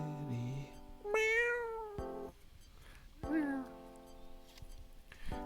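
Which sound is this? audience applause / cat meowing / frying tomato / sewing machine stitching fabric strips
cat meowing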